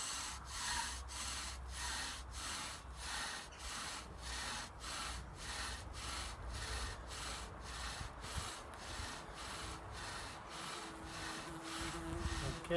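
Rhythmic rasping of a bow drill rubbing wood, a steady back-and-forth stroke repeating about twice a second, close and fairly quiet.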